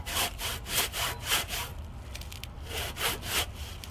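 A hand saw cuts through wood outdoors at a rain-soaked cottage in steady back-and-forth strokes. There are about seven rasping pulls, close and moderately quiet, with no voices.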